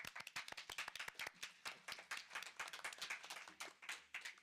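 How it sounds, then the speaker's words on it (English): Conference room audience claps, a rapid, fairly close patter of many hands with uneven rhythm that continues for several seconds without talk. "So big applause to Elisabeth and Nadja"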